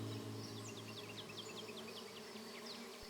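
A colony of honeybees buzzes in a dense, continuous drone, with many individual bees whining past close by over a steady background hum.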